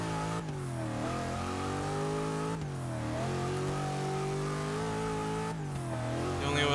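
Engine-swapped 1974 Toyota Corolla SR5 in Forza 6 accelerating hard, its engine note rising steadily through the revs, dropping at each of two gear changes, then climbing again.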